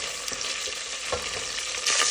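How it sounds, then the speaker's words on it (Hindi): Chicken pieces fry in hot oil over a high flame for an achari handi, giving a loud, continuous close-up sizzle and crackle that swells slightly near the end, with no talking. "तो अब इस ऑयल के अंदर मैं डालूंगी थी चिकन और इसको हाई फ्लेम पे हम लोग कुक करेंगे।"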